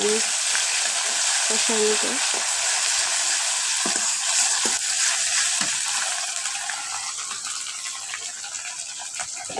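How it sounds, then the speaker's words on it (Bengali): Garlic and ginger paste sizzle in hot oil in a pan, a loud, close hiss with occasional stirring scrapes and clinks, softening toward the end. "দিয়ে দিব এক চামচ রসুন বাটা এক চামচ আদা বাটা"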